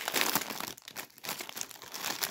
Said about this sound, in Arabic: نفتح خامس كيس ونقول بسم الله